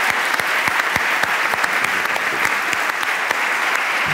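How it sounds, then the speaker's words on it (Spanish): A conference audience gives a speaker a strong round of applause, sustained crowd clapping with sharp individual claps standing out, continuous and fairly loud from start to finish. "fuerte aplauso para Luis Antonio Muñoz"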